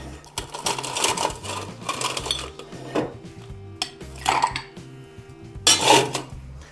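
Ice cubes clatter into a cocktail shaker or glass for a limoncello martini, several bursts of rattling and clinking against glass and metal, close and fairly loud with no talk.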